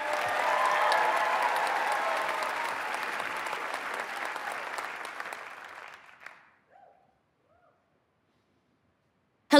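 A TED Talk audience applauds and cheers loudly for about six seconds, a dense steady clapping that fades out, followed by near silence.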